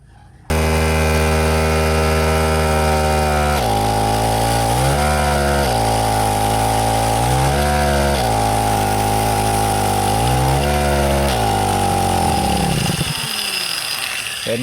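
Small petrol generator engine runs loud and steady after its governor actuator is adjusted, revving up and down in several surges before sputtering out as the fuel runs dry.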